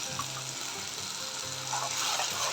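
Water pours steadily into a mixer-grinder jar in a home kitchen while a methi matar malai gravy is cooked, a continuous close splashing trickle that swells slightly toward the end.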